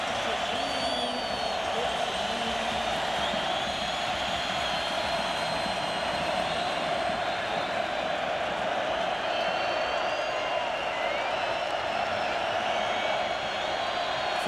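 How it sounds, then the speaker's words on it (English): A steady roar from a packed football stadium crowd at the Miami Dolphins versus Oakland Raiders 2000 AFC Divisional Playoff, distant and unbroken, with commentators talking faintly over it. "Listen to the crowd"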